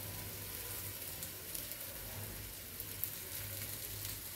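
Pineapple pieces fry in hot oil over a low flame, giving a continuous, even sizzle with faint crackles and a low steady hum beneath, no voices.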